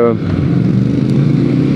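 A 2020 Triumph Thruxton 1200 RS motorcycle engine runs loud and steady up close, its low growl holding throughout, with a brief voice at the start.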